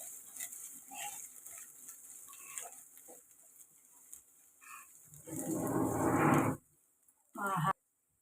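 Ginger-garlic paste fries in a pan with turmeric for a vanjaram fish curry, a loud hissing sizzle surging for over a second and then briefly again, after a stretch of quieter kitchen sounds and talk.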